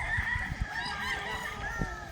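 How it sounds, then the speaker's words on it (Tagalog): Several chickens cluck and squawk close by, with brief honking calls rising over a low rumble of background noise. "Daming manok ko."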